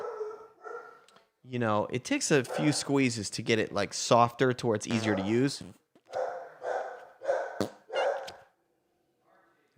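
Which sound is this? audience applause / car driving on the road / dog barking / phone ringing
dog barking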